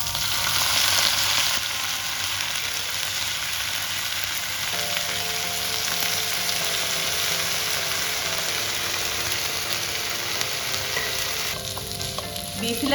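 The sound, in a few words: cooked beef frying in pan for beef ularthu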